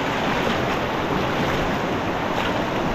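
Flowing stream water on a Philippine eel-hunting outing rushes steadily and loudly, an unbroken close hiss and gurgle with nobody talking over it.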